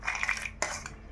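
Fried cashews and raisins tumble into a pot of ravva payasam, making a short, close clatter of light clinks against the metal rim and spoon.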